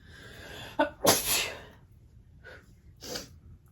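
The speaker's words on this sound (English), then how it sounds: "I'm about to sneeze though" One sharp, close sneeze bursts out after a quick intake of breath, followed a moment later by a softer sniff and a small exhale in a quiet room.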